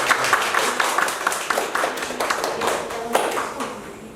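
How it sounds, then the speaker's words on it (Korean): Audience applause during a Korean anatomy lecture, a room clapping together to relax a nervous speaker, with dense overlapping claps lasting the full few seconds before thinning out at the end. "다시 한번 긴장 푸시라고 박수 한번"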